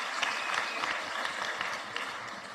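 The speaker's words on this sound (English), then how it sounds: "I think we can give them a big hand of applause." Audience applause at a matric results announcement, a steady wash of many hands clapping at moderate distance, fairly even and sustained without talk over it.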